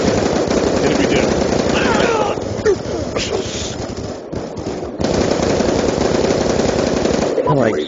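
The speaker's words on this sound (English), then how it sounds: "I'm like shooting my gun." Rapid automatic gunfire from a video game gun rattles in long, loud, continuous bursts with brief pauses, layered with other game effects and a voice talking over the shooting.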